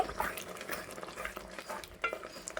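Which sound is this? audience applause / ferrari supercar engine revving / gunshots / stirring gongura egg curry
stirring gongura egg curry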